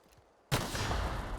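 After half a second of near quiet, a sudden loud blast of gunfire and explosions erupts in The Outer Worlds, continuing as a dense sustained roar of shots to the end.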